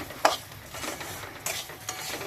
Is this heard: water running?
no